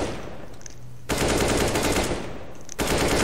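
Automatic gunfire in the video game CS:GO, two bursts of rapid machine-gun fire separated by a short pause, loud and close with no talking.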